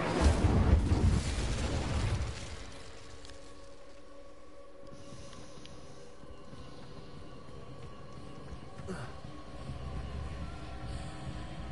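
Incendio fire spell cast in Hogwarts Legacy on PS4: a loud, broad whooshing fire burst for about two seconds, then a low sustained rumbling drone with faint tonal hum and a slight swell near the end.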